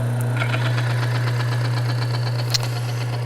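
A machine-driven oil test jig for weapon oil runs steadily close up, giving a constant low hum with a faint rattling, knocking texture and an occasional sharp tick, with no talk.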